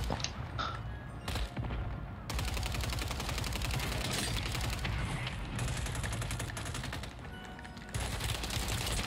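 Rapid automatic gunfire from an STG 44 rifle in the Warzone video game, dense continuous bursts with sharp booms, loud and sustained with brief pauses.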